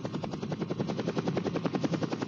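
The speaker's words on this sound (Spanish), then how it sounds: "El técnico en helicópteros de Codesur realiza un perfecto aterrizaje" A helicopter lands near Cerro Autana in the Venezuelan jungle, its rotor beating in a fast, steady thumping rhythm, loud and close throughout with no voices.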